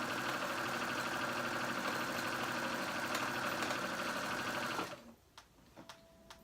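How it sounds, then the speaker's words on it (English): A sewing machine runs steadily, stitching a seam down a dress for close to five seconds, then stops and leaves a few faint clicks and handling sounds. "I'm just going to go ahead and sew that up all the way down"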